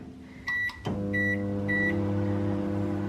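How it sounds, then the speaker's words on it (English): A microwave oven's keypad beeps a few times, then the oven starts and runs with a steady, low electrical hum. "I'm gonna put it in the microwave for kind of like,"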